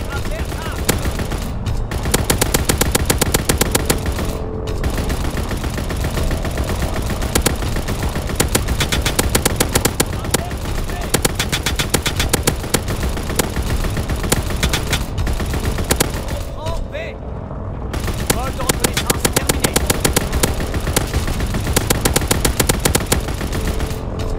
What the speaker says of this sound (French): Mitrailleur de fuselage en approche.